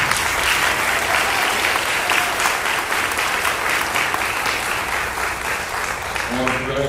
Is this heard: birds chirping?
no